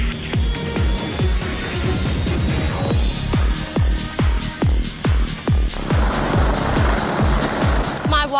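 A helicopter rotor thuds in a fast, steady beat close by, with a turbine whine running over it and no voices.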